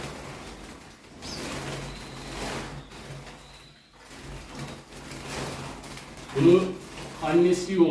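Young canaries chirp in a newly built aviary, a few short calls standing out near the end over a steady murmur of room noise, with a voice talking faintly underneath.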